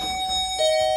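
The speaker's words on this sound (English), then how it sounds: "Chime." Elevator arrival chime in a luxurious Naples apartment building with a Fiam traction lift, a steady sustained bell-like tone that brightens and swells near the end of a single short ring, heard close over faint room hum.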